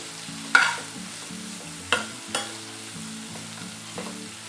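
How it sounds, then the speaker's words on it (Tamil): Onions and dried chillies sauté over low heat in a pan, a soft continuous sizzle with a few distinct clinks and scrapes of a spoon stirring, close and without speech. "அப்பப்போ கிளறிக்கிட்டே வந்து நல்லா வதக்கணும்"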